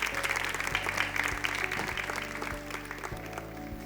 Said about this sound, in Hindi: तालियों में कमी नहीं होनी चाहिए।